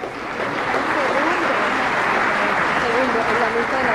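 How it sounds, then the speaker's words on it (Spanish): Audience applause at the Revista Imagen 2017 Personajes del Año awards event, a steady dense wash of clapping sustained for several seconds, with faint voices mixed underneath. "Pedimos un aplauso fuerte para ellos."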